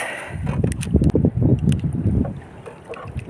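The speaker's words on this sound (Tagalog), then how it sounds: "Ang lakas ng hangin." Strong wind at sea buffets the microphone during a fishing trip, a loud, continuous low rumble with gusty surges and a few faint higher splashes or clicks, with no talking.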